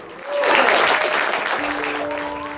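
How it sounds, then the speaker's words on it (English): Audience at a youth music program's back-to-school night bursts into loud clapping and cheering that swells quickly and holds steady, with scattered whoops and a sustained tone over the crowd. "It's so incredible, all those cheerings and clapping."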